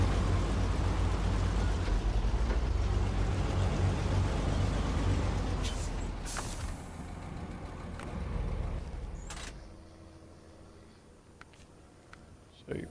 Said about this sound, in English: So you're probably hearing a coal truck go by.